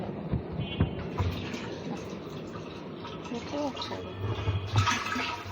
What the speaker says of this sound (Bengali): আর এই দেখো ট্যাঙ্কিতে জল উঠছে কীভাবে